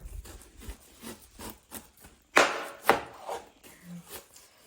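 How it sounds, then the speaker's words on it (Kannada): An onion being chopped with a knife on a board: a run of close, irregular thuds, with two sharper, louder cuts in the middle and softer taps on either side, no voices. "ಈರುಳ್ಳಿ ಕಟ್ ಮಾಡ್ತೇವೆ ನೋಡಿ"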